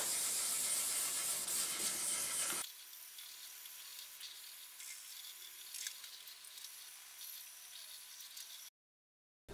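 Sandpaper of 800 grit rubs down the painted body of a Precision Bass build, making a steady, quiet hiss. It is louder and brighter for the first few seconds, continues more softly, then cuts off near the end.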